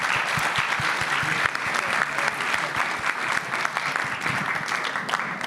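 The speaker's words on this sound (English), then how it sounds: "Please, round of applause." Steady applause from a sizeable crowd, dense and continuous clapping at moderate volume throughout, with no break.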